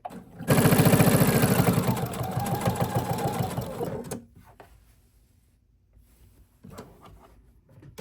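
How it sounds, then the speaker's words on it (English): A sewing machine stitching minky and fleece fabric runs loud and fast in a steady whirring chatter for about four seconds, then stops, followed by quiet handling noises and a brief softer run of stitches. "So I like to line up the fabric with the foot so my stitches are nice and straight."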